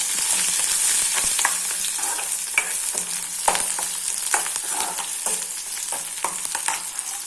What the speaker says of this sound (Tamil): ஒரு மீடியம் சைஸ் வெங்காயம் இப்போ இதை நல்லா வதக்கி விட்டுக்கலாம்